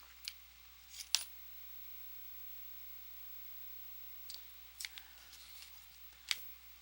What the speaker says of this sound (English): now I'm going to cut the leads